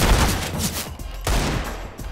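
Auto sniper rifle in the video game CS:GO, two loud, rapid volleys of gunfire close by, the second starting after a brief gap.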